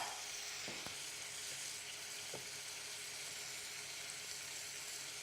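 Onions with a pinch of salt sautéing quietly in a pan for a lobster mango curry, a soft steady hiss with a few faint spatula taps, low in level and unaccompanied by speech.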